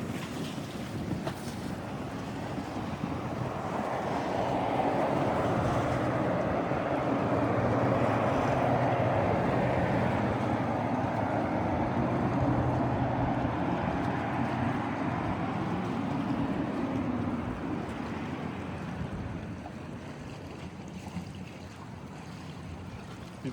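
Boat engines rumble steadily on a river near Dania Beach, Fort Lauderdale, a continuous mid-distance drone mixed with wind buffeting the microphone and water wash for over twenty seconds, without speech.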